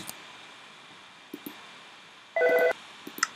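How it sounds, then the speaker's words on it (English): A telephone gives a short electronic ring burst of stacked steady tones, alone against a quiet background with a few faint clicks. "didn't think you wanted to hear the phone ringing"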